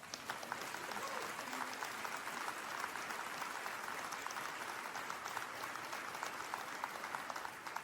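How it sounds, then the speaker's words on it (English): Audience applause during a president's address at the AOPO 2024 conference, a fairly quiet, steady patter of clapping from a crowd that carries evenly for about eight seconds, slightly distant, with no clear speech over it. "I see you who started that clap."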